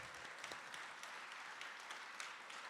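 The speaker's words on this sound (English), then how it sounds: "Big round of applause to all our panelists and speakers today." Applause from an audience for panelists and speakers at an art discussion event, a dense, even clapping that sounds faint and distant and carries on steadily with no talk.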